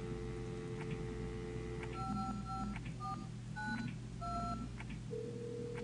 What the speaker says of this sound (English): Let's try calling the phone people.